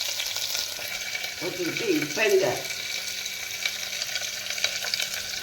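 Curry leaves crackling and sizzling in hot oil, a soft steady fry with a brief louder spatter in the middle, while a voice speaks quietly over it.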